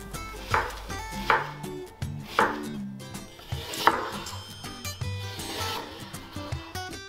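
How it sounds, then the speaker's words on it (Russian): Knife chopping onion on a cutting board, a series of crisp, separate thuds at an uneven pace, close up, with no talk. "Нарезаем лук."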